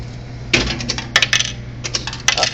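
A vending machine drops coins as change, a quick run of bright metallic clinks and jingles as they tumble into the return tray, close and moderately loud over a low hum, with no talking.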